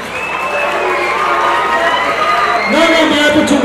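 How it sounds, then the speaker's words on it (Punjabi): A crowd at a boxing fight night in Badiala roars with dense, continuous cheering and shouting that swells louder toward the end. "ਤਾੜੀਆਂ ਮਾਰ ਕੇ ਦੱਸੋ ਫਿਰ ਕੌਣ ਜਿੱਤਿਆ?"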